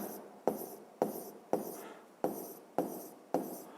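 Numbers written by hand, heard as seven evenly spaced pen or chalk strokes, each a sharp tap followed by a short scratch, quiet and close with no voice.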